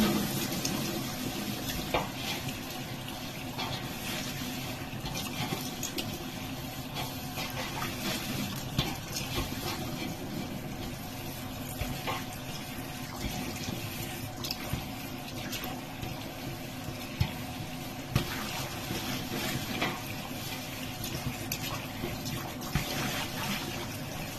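Water runs steadily over a brass sink during rinsing, a low continuous trickling hiss with occasional small clinks, quiet and unbroken throughout.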